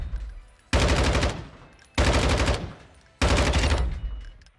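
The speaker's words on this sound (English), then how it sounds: "let's test the guns out. This is the Lockman 556." Lockman 556 rifle in a shooter game fires three sustained full-auto bursts, each roughly a second long and loud, separated by short pauses with no talking.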